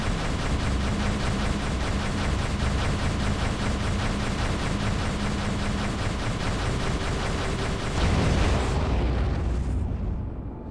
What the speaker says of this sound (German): Welch mächtige Explosion.